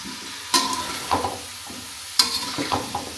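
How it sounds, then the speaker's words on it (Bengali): Cauliflower curry cooks in a pan with a soft sizzle, broken by a few sharp spatula scrapes and clinks as it is stirred. "ফুলকপি রান্না চলছে"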